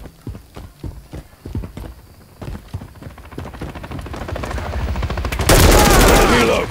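Gunfire aimed at a helicopter in Call of Duty Modern Warfare 3 (2023) starts as spaced sharp shots, quickens into rapid automatic bursts, then swells into a loud, dense barrage.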